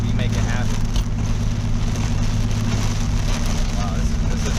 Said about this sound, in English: I wish I could show you guys what it's like in the rain.